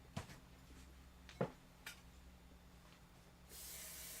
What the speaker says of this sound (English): Let me give this a little shot of spray in my spray tent.